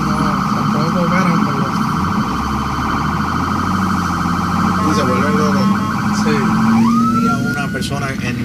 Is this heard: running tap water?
no